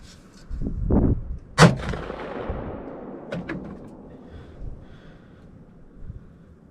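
A single loud muzzleloader rifle shot fired while deer hunting, with a sharp crack and a long rolling echo that fades slowly across the outdoor space, preceded by faint thumps and rustling.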